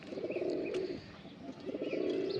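A pigeon coos in repeated low, throaty phrases close by, two long rolling calls with a short break between them and faint chirps in the background. The bird is a black-necked pigeon from a pair, called for its strong, springy voice.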